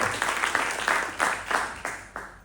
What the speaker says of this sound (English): So I'd like to actually just start by applauding Francisco Banya.